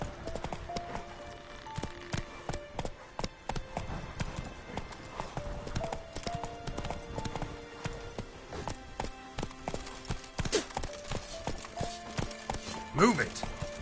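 Roach the horse in The Witcher 3: Wild Hunt trots along with rhythmic, fairly close hoof clip-clops, a brief rising snort or whinny near the end, and a voice speaking over it.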